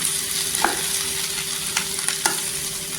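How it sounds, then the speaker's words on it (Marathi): Dry potato bhaji stir-fried with fresh coriander in a pan sizzles steadily as a spatula scrapes and tosses it in a few quick strokes, close and fairly loud, with no voices. "इथे कोथिंबीर टाकल्यानंतर ती परतून घ्यायची छान अशी।"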